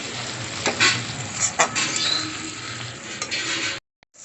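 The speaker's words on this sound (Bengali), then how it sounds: "দিয়ে ভালো করে হচ্ছে মশলাটাকে কষে নিচ্ছি।" Ground spices (Kashmiri chili, hot chili, cumin) with tomato sizzle in hot oil in a pan while a spoon scrapes and stirs in irregular strokes, close and fairly loud, then stops abruptly.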